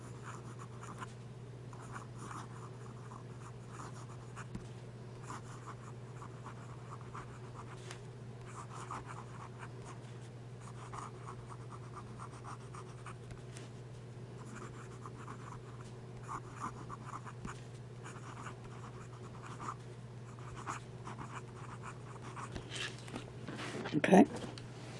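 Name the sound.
pen writing fast on paper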